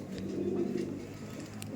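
A female pigeon with ghee-coloured eyes coos among other pigeons at a breeding loft, a close, steady low warbling burble lasting the whole moment.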